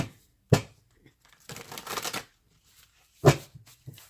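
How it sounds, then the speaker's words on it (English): Oversized tarot card deck being shuffled in three separate bursts, each a crisp papery riffle, the middle one longer and more rustling, close and fairly loud with quiet gaps between. "I shuffled a little before I actually push record to clear the deck"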